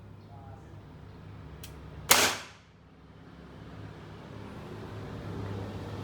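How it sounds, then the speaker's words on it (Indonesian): A single sharp test shot from a repaired Beretta M84 pistol fired at a wooden target roughly six to seven meters away, one crack over a quiet outdoor background with a short fading tail. "Kita akan uji coba tembak pada kayu ini dengan jarak kurang lebih 6 atau 7 meter."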